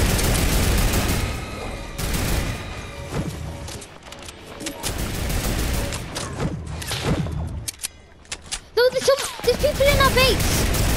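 Sniper rifle shots and other gunfire in the Fortnite video game, several loud booms and bursts mixed with game sounds, while players talk over the action throughout.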